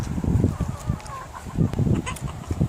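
Chickens on a Hertfordshire allotment cluck and murmur close by in a continuous low chatter, with a few higher calls scattered through the flock noise.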